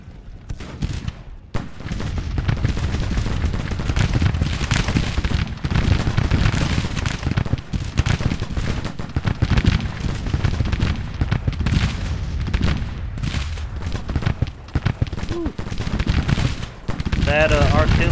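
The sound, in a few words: artillery fire in Civil War video game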